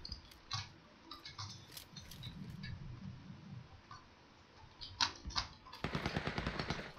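Faint, scattered gunfire pops out from the distance in the PedChampion shooter game, with sharp isolated shots and a denser rapid burst toward the end, over a low background hum.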